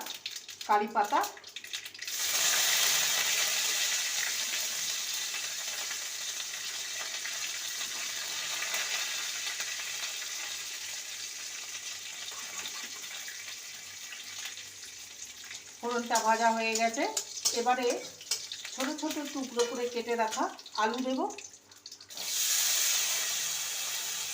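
Black mustard seeds hit hot oil for tempering poha pulao, bursting into a loud, steady sizzle that runs for most of the clip, with someone speaking over it partway through.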